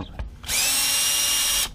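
Power drill backing out a screw on a 2016 Golf R MK7 during an APR intercooler install, a single steady whir of just over a second, loud and close, after a brief click.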